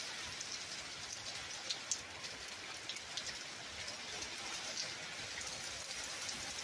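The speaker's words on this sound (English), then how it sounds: "Oh, it's more hailing." Hail and rain pelt steadily during a cumulonimbus thunderstorm, a dense continuous hiss with scattered sharper ticks of stones striking nearby surfaces, moderately loud and with no voices.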